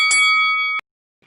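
A single bright bell ding rings out clearly and decays over most of a second, followed by silence and a faint small tap near the end; no voices.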